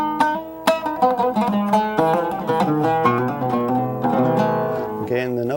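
Plucked oud strings trace a melody in the Shenaz mode, used in Persian and Greek music, with crisp attacks, quick note runs and sustained ringing tones, played solo and up close.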